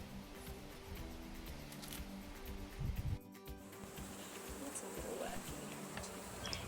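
A honey bee colony buzzing at its hive in a garden: a steady, dense drone of many bees, close and continuous throughout.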